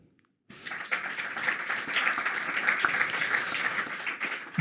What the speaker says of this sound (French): Vous pouvez d'ailleurs vous applaudir.